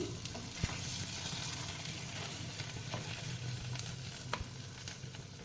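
Goat brain pieces fry in hot oil in a pan, giving a soft, steady sizzle with scattered crackles and light stirring clicks, heard alone at a modest level.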